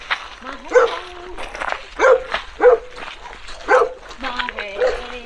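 A terrier mastiff at an animal sanctuary barks loudly and close in a string of sharp, evenly spaced woofs with a few whiny yips between them.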